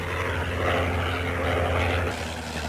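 The propeller engine of an Avro 504 biplane drones steadily and loudly with a deep rumble and a broad roar, holding a constant level and heard alone with no voices.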